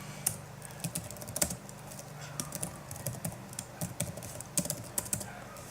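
Code is typed on a computer keyboard in a steady, close run of light key clicks with brief pauses. The tapping is fairly quiet and no voice is heard.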